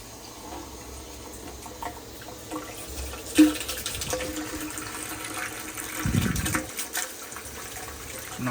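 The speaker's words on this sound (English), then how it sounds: "Starting to run off into the kettle." Wort draining from the mash into the brew kettle during a Kölsch brew day, a soft steady trickle and splash of liquid with a brief louder gush near the end, no talking.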